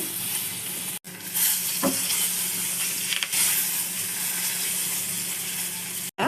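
Cumin seeds and curry leaves sizzle hard in hot oil and butter on a tawa for pulao, a loud continuous crackle with a brief clatter near the start and a short gap around the first second.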